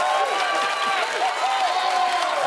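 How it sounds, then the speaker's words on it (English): A studio audience at a late-night talk show breaks into sustained, even clapping and cheering, loud and dense throughout with no voice over it. "I just wanted an applause for it"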